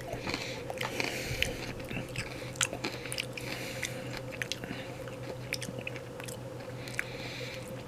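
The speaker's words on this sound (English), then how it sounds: "Let me go ahead and try a piece of ginger and see my reaction" Pickled ginger served with sushi is bitten and chewed close up, a run of crisp crunchy bites and wet chewing sounds in uneven rhythm over a faint steady background hum.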